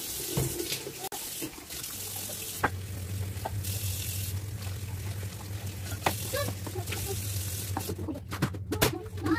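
Kitchen tap running while dishes are washed, a steady close hiss of flowing water with occasional clinks and knocks of plates in the sink.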